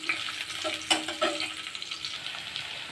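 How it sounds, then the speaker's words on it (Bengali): Cumin, chopped onion, garlic and green chili frying in oil, a steady close sizzle with a few sharp stirring clacks from the pan, no voices. "তো তেলের উপরে প্রথমে জিরে দিয়ে দিলাম, আর পেঁয়াজ কুচনো, রসুন কুচনো আর কাঁচামরিচ কুচনো সবগুলো দিয়ে বেশ হালকা করে একটু ভেজে নেব।"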